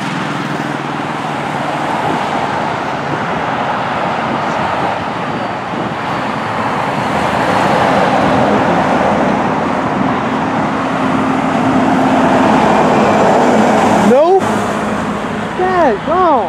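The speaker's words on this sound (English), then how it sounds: "Oh, we got a Freightliner come." A custom Freightliner truck rolls past along a roadway amid steady traffic noise, building louder as it nears, with a person talking over the rumble.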